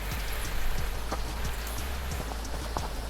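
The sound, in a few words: heavy rain outside the tent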